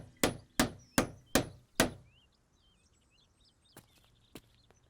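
A hammer strikes five times in a quick, steady rhythm while a to-let board is put up, loud sharp thwacks that decay, followed by birdsong and two fainter knocks.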